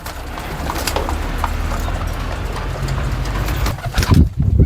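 Domestic pigeons cooing and fluttering while eating an alagang pagod feed mix, a dense, busy flock sound close by with bursts of wing flaps and shuffling toward the end.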